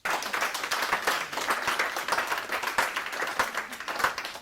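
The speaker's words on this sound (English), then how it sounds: "Please, let's give her a round of applause." An audience at a women's conference claps in a steady round of applause, many hands patting densely and evenly for several seconds with no voices on top.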